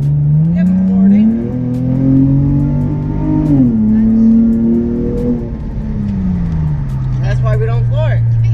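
An Infiniti G35 car accelerates hard at full throttle, engine note rising and surging close by, with people talking inside the cabin over the engine.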